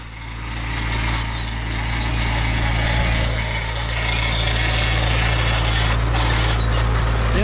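Wheels of an IH corn planter rubbing against the opening discs during a field pass, a steady loud grinding drone over constant engine hum that continues throughout without speech.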